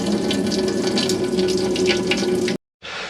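Water pump in a 2021 Auto Trail Scout motorhome running water into the sink, a steady hiss of flowing water over a faint motor hum that cuts out abruptly, then briefly resumes.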